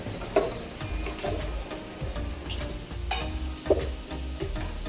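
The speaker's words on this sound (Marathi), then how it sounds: "हलकेसे आपल्याला तेलामधून तळून घ्यायचे." Sesame karanji frying in a small amount of oil, a soft continuous sizzle with bubbling crackles and a couple of sharp clinks from a utensil.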